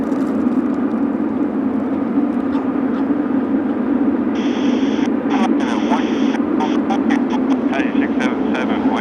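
Jet airliners take off and land at Narita Airport at night, a loud steady engine roar that fills the whole stretch while a radio voice talks over it.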